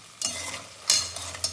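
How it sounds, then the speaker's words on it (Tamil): Makhana fox nuts roasting in oil in a pan, a soft sizzle broken by three or four quick stirring scrapes close by. "இதில் முதல்ல மக்கானாவை அந்த எண்ணெயில் வறுத்து எடுத்துடணும்."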